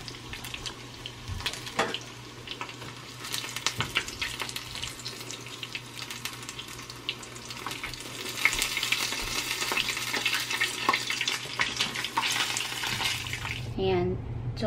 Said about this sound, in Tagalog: Piniprito ko lang ng konti yung chicken ulit para maging crispy.